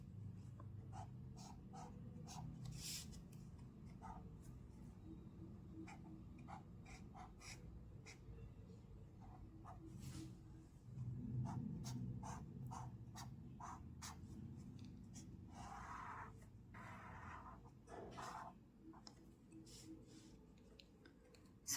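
Pen scratching on paper while sketching a three-phase load diagram, soft intermittent strokes and taps over a quiet low room hum, close and faint, without speech.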